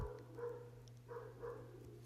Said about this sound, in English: There he goes, barking again.